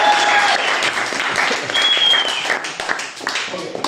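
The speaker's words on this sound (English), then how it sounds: "If you want to clap, you can." Steady applause from a stand-up comedy audience fills the whole stretch, loud and continuous with a few whoops mixed in.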